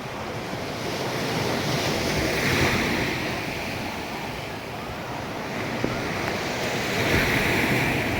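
Sea waves wash onto a sandy beach at Anda, Bohol, in a continuous broad roar that swells and recedes, with wind buffeting the microphone throughout.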